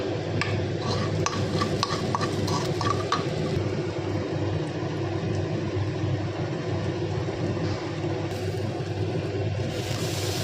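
Chopped garlic and ginger lightly frying in a pan for a paneer momo filling: a run of quick scraping stirs at first, then a steady low sizzle with a faint rumble, close and with no talking.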